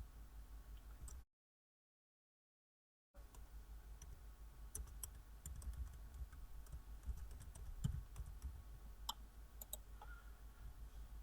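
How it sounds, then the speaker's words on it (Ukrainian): Typing on a computer keyboard while filling in a name on a Google account registration form: steady soft key clicks over a low background hum, briefly interrupted by a gap of silence, with no talking. "Пишемо власне ім'я."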